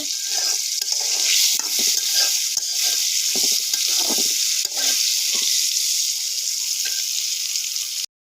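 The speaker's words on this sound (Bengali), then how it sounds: "পুটলের বড়া হচ্ছে মাটির চুলায়" Pointed gourd fritters fry in oil over a clay stove, giving a loud, continuous bright sizzle with scattered bubbling pops throughout.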